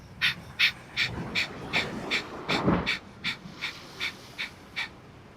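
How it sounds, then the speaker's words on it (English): Rapid, rhythmic breath of fire: about a dozen sharp, evenly spaced nasal exhales pumped from the navel, close and clear during a beach yoga session on Catalina Island, with no talking. "it's a rapid, rhythmic inhale, exhale of in and out of the nose using the navel"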